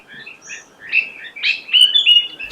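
Birds sing in a Himalayan forest near Nainital, Uttarakhand, with short high chirps and whistled phrases coming in quick clusters, some near and fairly loud, others softer, over a faint background hush and no speech.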